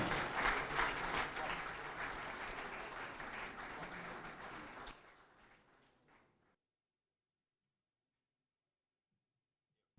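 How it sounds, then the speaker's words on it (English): An audience at a presidential gala dinner in Ghana claps loudly, then the applause fades away over a couple of seconds and cuts to silence. "A big round of applause, ladies and gentlemen."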